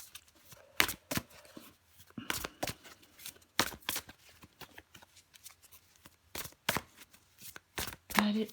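Tarot cards being shuffled in a run of quick, crisp riffling bursts separated by short pauses, close and fairly loud, with brief talk mixed in.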